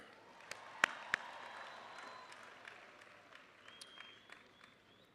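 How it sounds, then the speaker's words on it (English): Applause at a Tennessee State University spring undergraduate commencement, a soft distant wash of clapping across a large hall with a couple of sharp nearby claps early on, fading slightly, with faint crowd murmur. "One more round of applause for President Glover"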